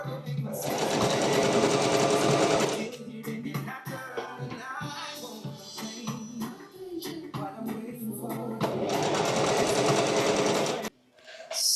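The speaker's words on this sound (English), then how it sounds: "and then I will straight stitch along here" A sewing machine straight-stitches a hem in two loud, steady whirring runs, one at the start and one near the end. Someone talks in the gap between them.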